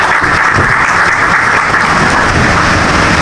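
An audience at a bird society event in Karachi breaks into loud, dense applause that holds steady and close for the whole stretch with no pause.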